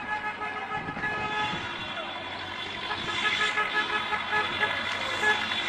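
A vehicle pulls a trailer loaded with people to a village eighteenth-birthday party, its engine rumbling over a sustained horn blast, with voices and commotion around it.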